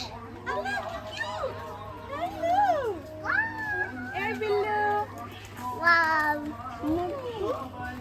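A cat meowing repeatedly at close range, with rising and falling cries mixed in among children's voices and chatter outdoors.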